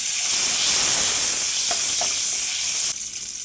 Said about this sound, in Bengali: আমি ওই কড়াইতেই তেল দিয়ে তেলটা গরম হওয়ার পরে গোটা গরম মশলা এবং শুকনো লঙ্কা ফোড়ন দিলাম।